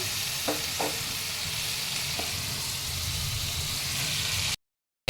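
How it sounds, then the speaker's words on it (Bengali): Spice paste with tomato puree sautéing in a pan: a steady, close sizzle with a few soft spoon scrapes, running alone without talk before cutting out near the end. "এবার আমি মশলাটা ভালো করে একটু কষিয়ে নেব। একটু টমেটো পিউরি দিয়ে দিচ্ছি।"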